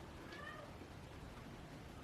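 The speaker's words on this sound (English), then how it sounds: "if you hear cats, it's because it's cats." A cat gives a short, thin meow in a home while makeup is being applied, heard faintly over a steady background hiss with no talking.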